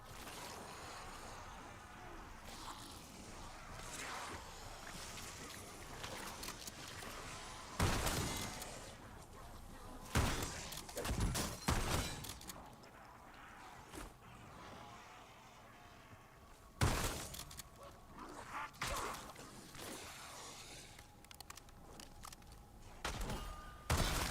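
Shotgun blasts in Black Ops 6 Zombies come as several loud, sharp broadband bursts spaced irregularly over a steady game soundscape, with a player talking in between.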